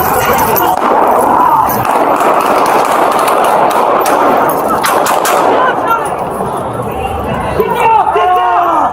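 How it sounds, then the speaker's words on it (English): Gunfire at a police shooting scene on a city street, loud continuous rapid cracks and bursts over frantic shouting and crowd noise, close and chaotic throughout. "shots fired"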